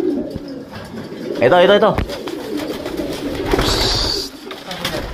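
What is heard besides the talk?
pigeons cooing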